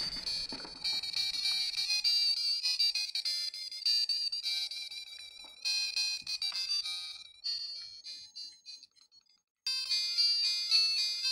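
Chiptune game music and bright electronic beeps play from a recapped Sega Game Gear handheld, loud and continuous with a brief dropout near the end before resuming.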